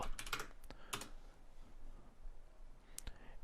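Computer keyboard typing during a QIIME 2 workshop command-line demo: a quick burst of close key clicks, a pause, then a couple more taps, fairly faint, with no talking.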